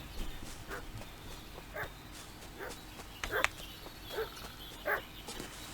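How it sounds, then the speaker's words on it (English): A dog barks repeatedly in short, sharp bursts at mid distance in the Kingdom Come Deliverance 2 video game, with irregular barks spaced over a steady low outdoor ambience and no talking. "What's that dog making such a fuss about?"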